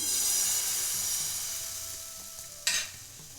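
Semolina batter on a hot oiled pan gives a soft, steady hiss that slowly fades, then one brief sharp crackle as more batter is ladled in.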